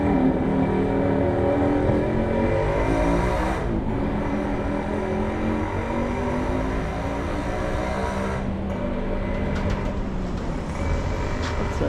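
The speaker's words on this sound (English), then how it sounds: "Sorry, car's moving." A car moving through a narrow alley in Bangkok's Chinatown near the river, its engine a steady, fairly close rumble that holds for the whole stretch, with street noise around it and no talk.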